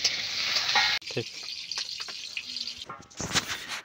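Potato pieces sizzling and being stirred in a pan in a home kitchen, a loud steady fry hiss broken by clattering scrapes of a spoon, with brief talk partway through.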